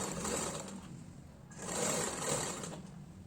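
A sewing machine stitches the front part of a blouse in two short bursts of fast, rhythmic whirring and clatter, close and fairly quiet, with a brief pause between them.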